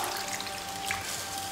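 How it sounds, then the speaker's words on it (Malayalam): Water pours steadily into a pot of tapioca being boiled, a soft continuous splashing and trickling close by with no voices. "ഇനി നമുക്കിതിലേക്ക് കുറച്ചുകൂടെ വെള്ളം ഒഴിച്ചു കൊടുക്കാം."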